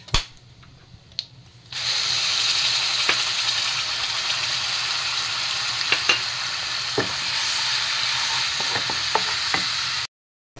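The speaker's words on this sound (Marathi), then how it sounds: "कांदा टोमॅटो ते लसूण अद्रक ते सगळं आता मी ह्यात घालत आहे" Onion, tomato, garlic and ginger masala paste sizzles steadily in a pan for cashew paneer peas curry, a loud continuous hiss with occasional stirring clicks, after a quiet opening second.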